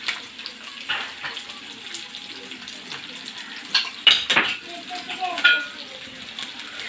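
Chopped onion and garlic sizzle steadily in a pan while cooking dal with mango, with a spoon clinking and scraping against the metal as the mixture is stirred.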